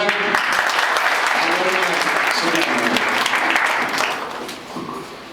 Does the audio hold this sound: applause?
yes